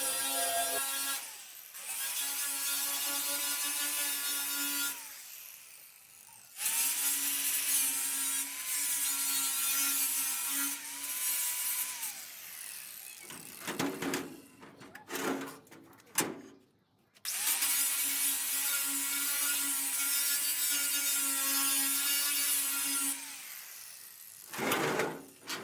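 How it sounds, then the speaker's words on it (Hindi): An angle grinder strips rust from the metal body of an air cooler in long loud whining passes of about five seconds each, broken by short pauses and scraping. "देखें कितने अच्छे तरीक़ा से हमारे ग्राइंडर ने यहाँ से सारा जंग उतार दिया है।"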